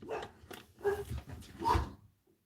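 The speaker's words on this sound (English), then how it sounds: "Gracie, what are you barking at?" Gracie the dog barking indoors, three short separate woofs with gaps between them, moderately close and fairly quiet, ending in a faint trailing sound.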